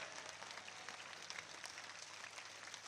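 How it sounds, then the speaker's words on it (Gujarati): Sustained crowd clapping at a Thakor community gathering in Banaskantha, dense and steady for the full stretch, fairly faint and distant with no voices over it. "ના કહું ત્યાં સુધી તાળીઓ પાડો"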